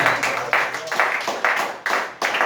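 A church congregation claps in unison, steady rhythmic hand claps about every half second, close and moderately loud, with no voices over them.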